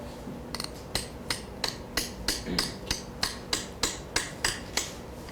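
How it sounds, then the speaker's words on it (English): Sharp, evenly spaced hammer blows shape a metal shell in a silversmithing shell-forming demonstration, about a dozen crisp ringing strikes at a steady rhythm, close and alone. "deepening with sharper hammers or the same hammer"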